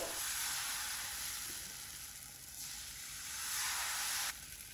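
Batter sizzles steadily in a pan over a low flame, a continuous bright hiss that swells and eases, then drops sharply near the end.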